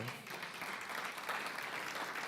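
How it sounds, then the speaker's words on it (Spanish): A congregation applauding during a church service, a continuous soft wash of clapping that sounds fairly distant and faint. "Dale un aplauso al Señor por eso."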